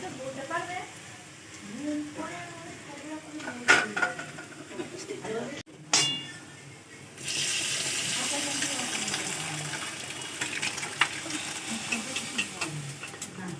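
Boiled peas are tipped into a pan of dark, well-cooked spice paste for ghugni, setting off a sudden loud wet rush and sizzle that carries on steadily. Someone talks over the clip, and utensils clink against the pan now and then.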